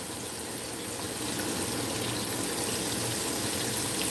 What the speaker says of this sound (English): I'm going to put water in here up to the top of the roast.